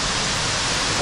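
Water leaking and pouring inside a cave during a strong storm, a loud, steady broadband rush like a nearby waterfall, constant and close with no pauses.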